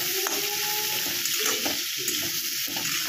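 Food frying in a pan on its way to light brown: a loud, continuous, close sizzle with occasional stirring scrapes, and nobody speaks.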